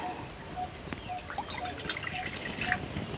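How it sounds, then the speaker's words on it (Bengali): Water is poured a little at a time into a kadai set on a lit stove for a sweet made with bread and milk powder, producing soft close drips and trickles with small splashes. "ওই কড়ার মধ্যে অল্প করে জল দিয়ে দিচ্ছি।"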